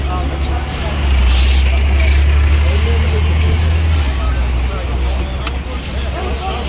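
City bus passing on a street, a loud low engine rumble that swells and fades, with traffic noise and voices around.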